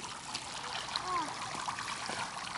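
Water trickles and dribbles steadily from an H2O GO backyard water toy outdoors, a faint continuous stream with light splashing throughout.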